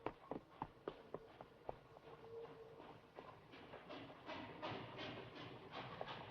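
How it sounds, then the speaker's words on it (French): A train rushing along the rails toward the Pyrenees, with a quick series of sharp clacks at first, then a rising, continuous rumble and rattle of wheels, fairly faint and without voices. "ce train doit filer jusqu'aux Pyrénées sans s'arrêter en chemin"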